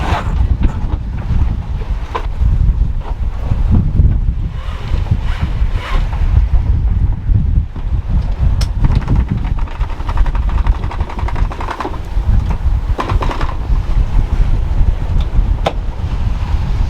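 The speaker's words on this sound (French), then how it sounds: "il faut qu'on empanne, c'est-à-dire qu'on change la grand voile de côté" Sailboat gybing at sea during a crossing toward the Bahamas as the mainsail swings across to the other side, heard under strong, constant wind buffeting and wash of water, with a few faint knocks and creaks but no clear single swing.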